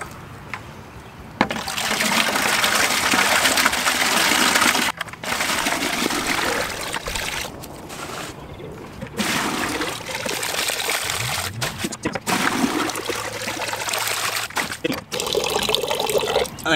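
Meltwater draining out of a 330-gallon tote used as a chiller-frozen ice battery, a steady loud rushing gush that runs almost continuously, with short breaks and splashy trickles toward the end.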